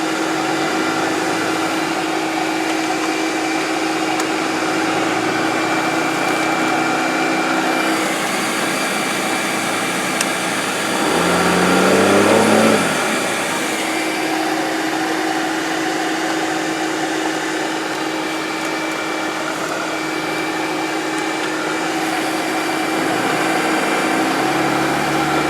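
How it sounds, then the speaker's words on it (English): A second-generation Dodge Cummins diesel truck engine runs with a steady, continuous drone, swelling briefly louder partway through before settling back to an even idle-like hum, with no talking. "We're gonna take it on a spin so you guys can hear it run, see it driving"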